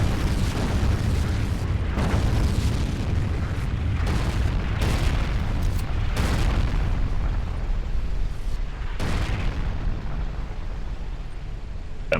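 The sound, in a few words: artillery fire in video game Forgotten Hope 2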